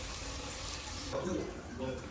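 Water pours and splashes into a pan of brinjal for cooking, a soft running trickle close by, with a voice speaking over it.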